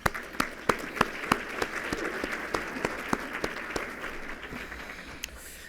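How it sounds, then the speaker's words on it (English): A roundtable luncheon audience applauds outgoing board members: a few sharp, separate claps ring out first, then a steady round of clapping that thins toward the end. "please let's celebrate them also with a round of applause"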